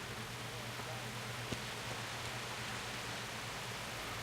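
Steady rain in the Kingdom Come: Deliverance video game, a faint, even wash of hissing noise throughout with a low hum beneath and one tiny click, no voices.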